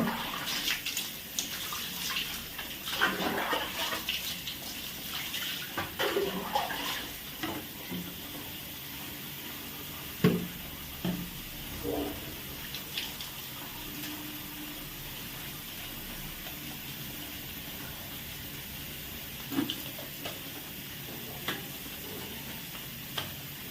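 Water runs and splashes while rinsing shampoo and castor-oil-laced hair oil out of hair, a steady tap-like flow with intermittent splashes and drips, fairly close and continuous.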